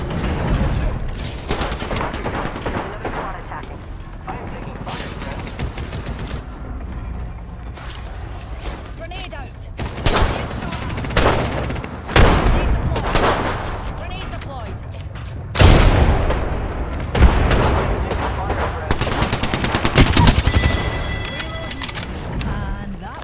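Gunfire in the Apex Legends video game: repeated bursts and single shots with heavy impacts, some loud close volleys, mixed with game effects and voices talking over them.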